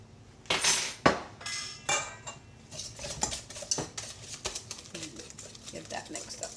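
Utensil repeatedly scraping and clinking against a bowl while crab cake mixture with crushed crackers is stirred, a steady run of close, light knocks and scrapes, with a voice talking over part of it.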